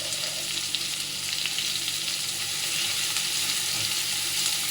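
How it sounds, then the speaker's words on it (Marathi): Onion fries in a pan for kanda pohe with a steady, dense sizzle that holds evenly throughout, close and fairly loud, with no talking. "कांदा पण चांगला आपण शिजवून घेऊया."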